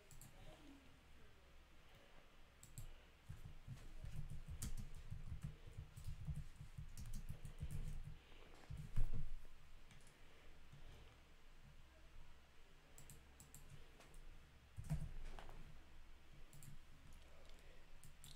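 Someone types on a computer keyboard in a quiet room, faint scattered key clicks coming in irregular bursts over a low background hum, with a few louder taps.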